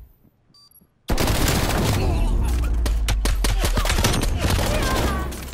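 Rapid bursts of gunfire in a Call of Duty: Cold War 2v2 match, loud and dense, with repeated shots and booms rattling continuously for several seconds after a quiet start.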